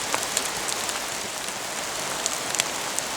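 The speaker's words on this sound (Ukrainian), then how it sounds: "льє дощ, але ми без грибів звідси не підемо" Heavy rain falling in a forest: a dense, steady hiss of downpour with scattered sharper drips and drops hitting leaves nearby, continuous and without voices.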